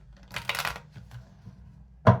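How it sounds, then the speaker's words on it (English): Tarot cards shuffled by hand at close range: a quick riffling burst, a few soft card slides, then a sharp tap as the deck is squared, with no talk. "So I'm going to shuffle, pull the spread"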